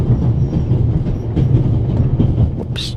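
A moving train in The Raven: Legacy of a Master Thief game, loud continuous rumbling and rattling of carriage wheels with rhythmic clatter, ending in a brief high metallic squeal, no talking.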